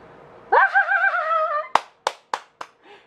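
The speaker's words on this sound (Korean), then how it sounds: "학생들은 일시에 손뼉을 치면서 웃어댔다." A short burst of hand clapping follows a drawn-out whinny-like tone, with four or five separate sharp claps spaced about a third of a second apart, loud and close, as students applaud in a story reading.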